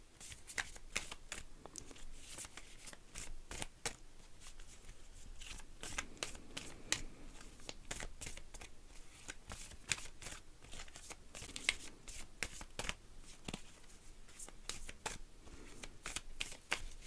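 Tarot-style cards shuffled for a horoscope reading, a close, quiet, continuous riffle of soft papery flicks and slaps with brief crisp snaps repeating throughout.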